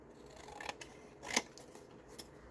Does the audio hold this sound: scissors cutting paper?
yes